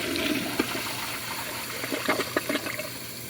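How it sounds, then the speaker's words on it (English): A 2020 Foremost Eco To Go portable toilet flushes close by in a short rush of water, with gurgles and splashy bursts toward the end as the bowl empties. "so let's give it a flush."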